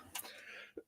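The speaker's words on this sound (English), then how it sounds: "Apologies again about the coughing." A single short dry cough from a scratchy throat, close and quiet, with a brief throat-clearing sound just after it.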